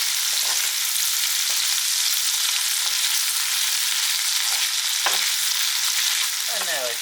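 Prawns frying with salt in a pan, a loud continuous sizzle with occasional clicks and scrapes of stirring, close up and without talk.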